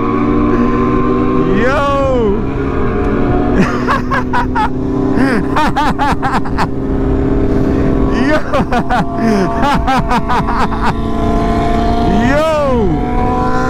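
A pack of liter sport motorcycles, including an S1000RR, R1 and ZX10R, screams past on a highway, loud engines rising and falling through repeated pass-bys and high revs, with constant road roar and a man exclaiming at them.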